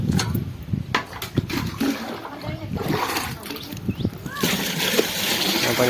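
Water splashing from buckets poured over a quilt being washed, several irregular close splashes and sloshes with trickling between them, voices talking alongside.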